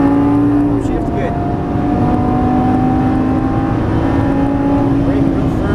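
A Lamborghini Gallardo Superleggera LP570-4 engine drones loud and steady on a race track, its pitch climbing slightly under light throttle, while someone talks over it throughout.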